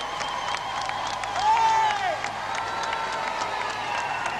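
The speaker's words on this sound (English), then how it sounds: "Cheers and more cheers. Hooters and horns and rattles and bells." Cheering crowd at a royal wedding, a dense sustained roar of voices with scattered hooters, horns, rattles and bells, including a brief rising whistle-like tone in the middle, steady and distant-sounding throughout.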